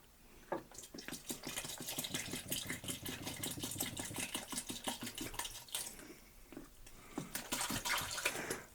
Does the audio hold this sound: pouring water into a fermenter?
yes